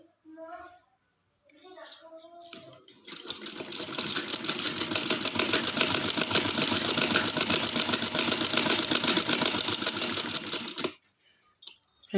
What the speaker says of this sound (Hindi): आपके सामने मैं सिलाई लगाती हूँ